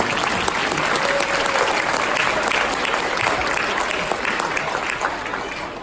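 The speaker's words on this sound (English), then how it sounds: "Feel free to applaud whenever you like" Steady, sustained audience applause at a cadet band concert, dense clapping filling the room at an even level throughout with no pauses.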